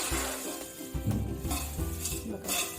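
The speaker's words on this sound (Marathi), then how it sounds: "असं मोठं टोप घेतलं की सगळीकडे असं हलवायला छान भेटतो" Thin poha chivda stirred in a large pot with tempering, giving repeated scraping and rustling strokes against the metal, with a soft sizzle and occasional light clinks close by and no talking.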